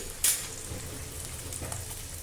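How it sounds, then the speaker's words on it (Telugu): Three peeled garlic cloves fry in hot oil in a pan, giving a steady low sizzle with a brief brighter crackle near the start, close by and without talk. "దాంట్లో వెల్లుల్లిపాయలు మూడు వెల్లుల్లిపాయలు తీసుకొని పైన పీల్ తీసేసి కలర్ చేంజ్ అయ్యే వరకు కూడా వేయించుకోండి"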